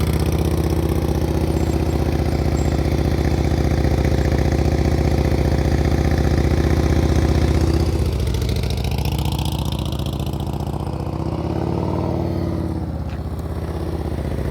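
A motorcycle engine runs steadily and loudly up close during slow-speed practice riding, holding a low idle-like drone with gentle throttle swells near the end.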